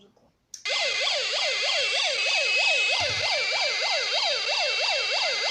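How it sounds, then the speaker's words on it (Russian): A Znatok electronic construction kit plays a loud police siren that rises and falls in a fast, steady warble. It starts abruptly after a short pause and runs without a break. No voices are heard. "послушайте музыку, чудесную полицейскую музыку"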